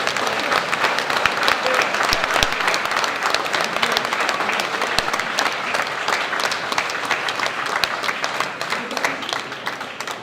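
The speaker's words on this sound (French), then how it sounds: "Je vous demande d'applaudir encore" Dense, sustained applause from a seated audience at a cultural centre conference, loud and continuous for several seconds with a faint voice underneath.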